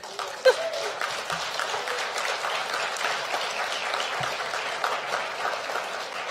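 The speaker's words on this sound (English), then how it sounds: "will you just give yourself a big round of applause?" A large audience at a 2023 ISS graduation celebration breaks into thick, sustained applause that fills the hall at an even level, with a brief thump near the start.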